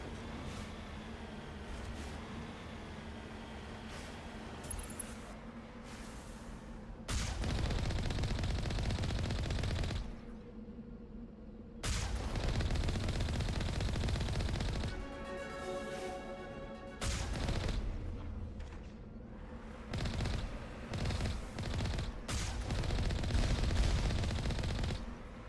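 Automatic turret gunfire on the moon in Mass Effect comes in loud, rapid bursts separated by quieter gaps, with heavy impacts and crashes mixed into the repeated volleys.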